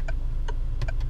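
A Land Rover's turn signal in its classic sound mode gives a few short, crisp ticks in a quiet cabin over a low engine hum.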